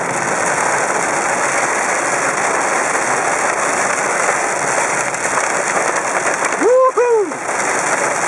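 A freak September hailstorm at Ebbetts Pass produces a dense, loud, continuous hiss of ice pellets hitting surfaces, with a brief voice-like tone near the end.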